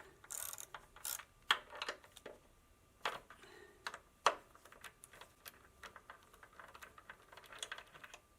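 A ratchet clicks in quick bursts while the brake caliper bolts come off a Kawasaki Z125 Pro motorcycle, close and fairly quiet, with short pauses between runs of clicks.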